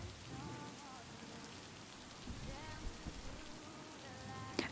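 Steady rain patters on surfaces outdoors, a continuous close hiss with scattered drips and small splashes, nothing else standing out above it.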